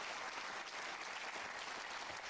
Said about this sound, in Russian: Аплодисменты Софии.